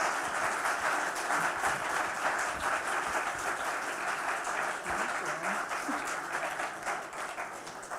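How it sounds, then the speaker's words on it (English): An audience at a community panel applauds in a continuous, even rush of many hands. It holds for the full eight seconds with faint voices murmuring underneath. "So can we give a round of applause?"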